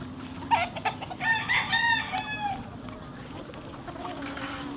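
Chickens in a Philippine yard cluck near the start, then a rooster gives a single harmonic crow in the middle, fairly close over a low background hum, with a voice faintly present.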